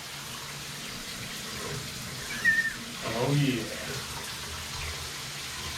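A newly installed shower in a basement build sprays water in a steady, even hiss throughout, with a man briefly exclaiming partway through.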